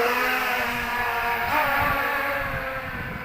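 The motors of an SJRC F22 S2 Pro drone spin up for takeoff over the sea, giving a steady, loud buzzing whine with a faint rise in pitch.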